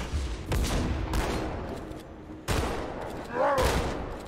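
Gunfire in the video game Halo 2 Anniversary, a few heavy bursts of shots and blasts over a rumbling battle backdrop, loud and close.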